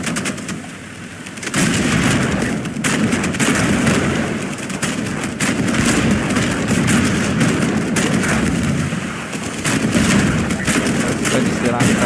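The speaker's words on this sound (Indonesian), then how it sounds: "Kita diserang sama helikopter" Gunfire from an attacking helicopter in the naval combat game Age of Water, loud dense bursts of shots and booms rolling on almost without pause after a brief quieter opening.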